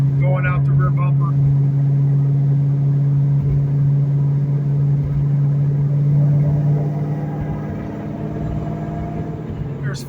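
A supercharged 2004 Mustang Mach 1 with BBK long tube headers, an off-road H-pipe and Flowmaster Super 10 exhaust cruising in fifth gear, a steady low droning hum heard from inside the car while a person talks over it.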